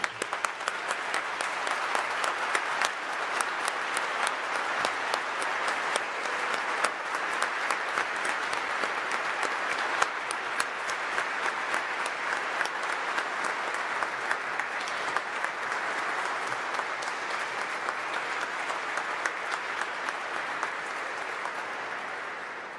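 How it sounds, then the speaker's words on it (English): Sustained applause from a standing audience honoring newly commissioned officers at a combined Air Force and Navy ROTC commissioning ceremony, a steady dense wash of clapping lasting over twenty seconds without pause. "please rise and join me in giving our new officers one final round of applause"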